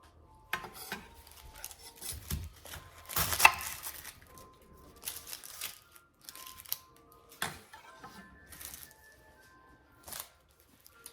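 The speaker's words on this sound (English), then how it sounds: "going to cut my onion" A knife cuts through a large onion on a board, irregular sharp chopping taps and slices in close, quiet bursts, no talking.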